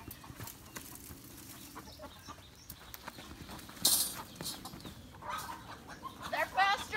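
Chickens cluck outdoors on a farm during a chicken-catching event, with scattered bird calls and hoof-like clopping, while several people talk nearby throughout.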